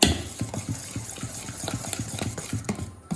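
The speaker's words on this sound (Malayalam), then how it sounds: "ഇനി മാവിലോട്ട് ഉപ്പിട്ട് കൊടുക്കണം. ചൂടുന്ന ടൈമിലാണ് നമ്മൾ ഇതിൽ ഉപ്പിടൽ. അത് നന്നായി ഒന്ന് ഇളക്കി കൊടുക്കുക" Salted masala dosa batter being stirred, a steady run of soft, wet scraping strokes in an even rhythm, close and moderately loud, with no talking.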